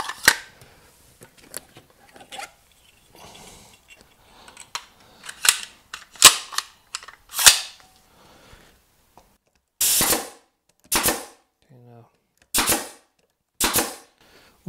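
A staple gun or nail gun drives staples into wooden battens, firing a series of sharp, close snapping shots. They come irregularly at first, then roughly a second apart.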